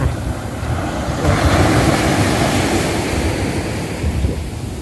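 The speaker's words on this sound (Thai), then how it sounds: "ชมคลื่นซัดสาดขึ้นมาที่ชายฝั่งลูกแล้วลูกเล่า" Ocean waves wash steadily onto the shore at Bang Saray Beach, Thailand, a continuous roaring surf with wind noise buffeting the microphone.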